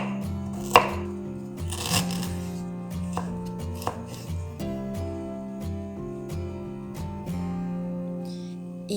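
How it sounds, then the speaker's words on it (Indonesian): Ginger sliced thinly with a knife on a cutting board, a series of crisp, evenly spaced chops close up and fairly loud, with no voice. "Ini jahenya aku iris tipis dulu."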